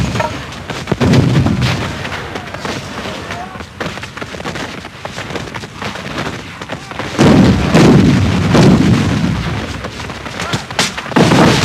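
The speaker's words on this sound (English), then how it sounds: "As Beauregard shifted his troops, the Confederate artillery pounded the Federals, and Southern resistance stiffened." Civil War artillery cannon fire at the First Battle of Manassas booms several times in heavy, deep blasts at irregular intervals, each followed by a rolling rumble over a constant battle din.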